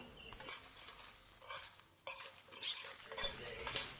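Five or six garlic cloves go into a pan already frying a vegetable stir-fry. Sizzling and stirring come in uneven bursts, with a spoon or spatula clinking against the pan now and then.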